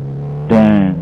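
A Kawasaki Z250 SL motorcycle engine idles with a low steady hum, then abruptly revs up loud and close for about half a second before easing back.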